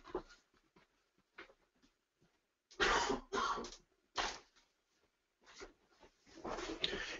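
A man coughs a few short, dry times in an otherwise quiet room, with scattered faint rustles between the bursts.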